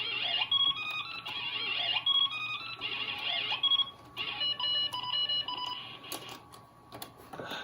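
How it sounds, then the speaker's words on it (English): A World War II Nazi-shooting game on an ESCOM Graymate 486 DX notebook gives out repeated high electronic beeps and bleeps in choppy bursts through the internal speaker, fairly close and continuous, with a few short pauses. "Gotta love all those beeper noises"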